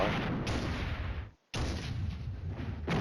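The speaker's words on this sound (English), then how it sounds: "Oh, here comes more of that really fun Soviet artillery." Soviet artillery barrage in the wargame Flashpoint Campaigns: Red Storm, loud continuous rumbling bursts of shellfire that cut off abruptly for a moment near the middle, then resume just as heavily.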